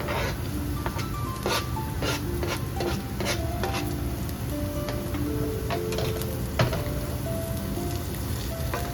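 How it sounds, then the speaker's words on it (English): Onion and garlic stirred in a pan, a steady run of scraping, rubbing strokes with faint sizzling, close by and repeated throughout, over soft background music. "Stir well to combine onion and garlic."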